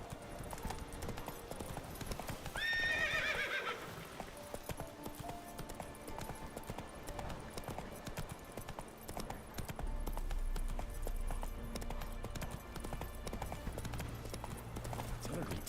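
Horse hooves clip-clopping steadily in The Witcher 3, with a short whinny early on, under distant game ambience and a low musical drone.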